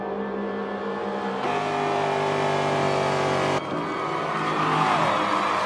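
Race car engine in Forza 7 at Homestead on the back straight, a sustained droning whine that rises in pitch through gear changes, steady and loud with no talk.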